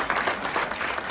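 An audience at a Cannes Festival film screening applauds in a steady, dense wash of clapping that runs through the whole brief moment.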